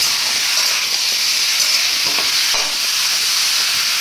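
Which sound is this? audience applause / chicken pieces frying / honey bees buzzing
chicken pieces frying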